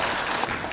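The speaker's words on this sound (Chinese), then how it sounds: "让我们掌声有请" An audience at a multicultural arts festival in a Toronto community and cultural centre applauds a speaker onto the stage: a brief, dense wash of many hands clapping, steady and fairly loud.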